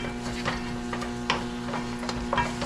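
A spoon stirs a pot of boiled pork stew (nilaga) with soft scraping and sloshing strokes over a steady cooking hum, close and continuous, with no voices.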